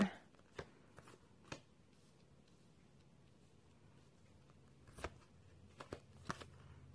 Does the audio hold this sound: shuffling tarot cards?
yes